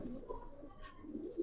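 Giribaz silver pigeon, a male, cooing nearby in soft low murmurs that swell and fade over a steady background murmur.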